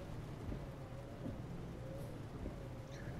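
Steady rain from the Euro Truck Simulator 2 driving game, a continuous broadband hiss of falling rain with a low engine-like rumble underneath, even and unbroken throughout.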